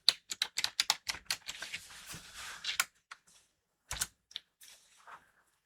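Quick bursts of keystrokes clatter on a computer keyboard, about a dozen crisp taps in rapid succession, then a pause and a few scattered presses, close and fairly quiet.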